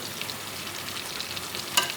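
Pieces of rui fish, heads included, sizzle steadily in hot oil in a pan, a continuous close crackle with a brief sharper spatter near the end and no talking.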